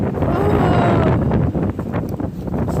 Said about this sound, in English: Oh, it's too windy.